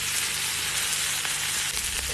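Pan-seared steak topped and surrounded with butter sizzles in a hot pan, giving a dense, even hiss, close and loud throughout with no talking.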